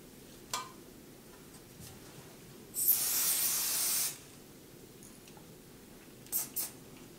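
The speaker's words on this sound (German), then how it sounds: "Ich klebe mir das Ganze jetzt mit ein bisschen Sprühzeitkleber" Temporary spray adhesive is sprayed onto fabric while sewing a girl's sweat skirt: one hissing burst of about a second, close and clear, with light clicks before and after.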